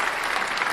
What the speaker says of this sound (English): I just love to put on this crowd applause,